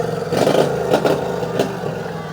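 A small lawnmower-racing car engine revs at a fairground-style event, with a mid-pitched buzzing drone and a few short throttle blips rising over steady background noise, fairly close.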